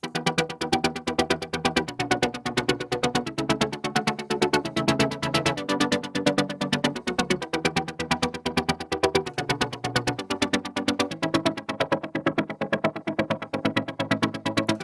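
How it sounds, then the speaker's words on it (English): A synth pad made in Serum, chopped into a rapid, steady stutter, pulsing chords shifting every couple of seconds, loud and continuous with no talking. "I'm gonna show you how you can make a stuttering synth pad"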